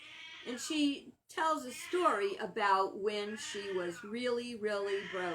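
A pet cat named Tishy, in a mood, meows again and again in drawn-out, pitch-bending cries, close and loud, mixed in with someone speaking.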